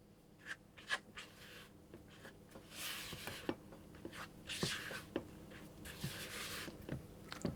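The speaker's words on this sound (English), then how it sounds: "I'm going to put my flour in, and I'm going to fold that through until that's fully combined" Flour being folded by hand into fairy cake batter in a mixing bowl, soft scraping and squelching strokes in an irregular rhythm, quiet and close, with no talking.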